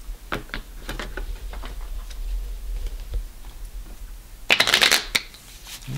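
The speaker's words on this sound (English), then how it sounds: "just shuffle those two cards together" Playing cards being shuffled together by hand during a close-up magic trick, a steady soft riffling and shuffling that swells into a louder, crisp burst of card flutter near the end.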